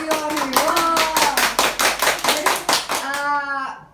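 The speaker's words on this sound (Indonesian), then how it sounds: "tepuk tangan dulu" A crowd bursts into applause, dense clapping from many hands under a sustained musical tone, fading out at the end.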